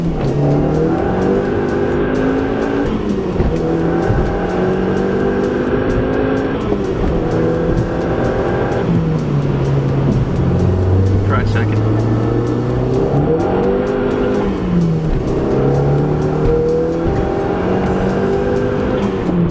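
A Jetta 2.0T TSI with a modified K04 tune accelerates hard in first gear, its engine note climbing and shifting repeatedly in a loud, continuous, close drone with some speech in the mix.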